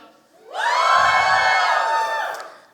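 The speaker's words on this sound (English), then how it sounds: "So all the women in the house, give me a cheer." Women in the audience at a science slam during Berlin Science Week let out a loud, sustained cheer of high-pitched shouts and whoops, swelling in quickly and holding steady for about two seconds.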